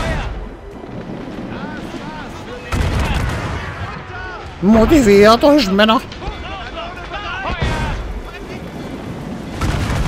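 Booming ship cannon fire in Assassin's Creed Rogue, with several heavy blasts rolling over a busy naval battle soundscape while someone speaks over it.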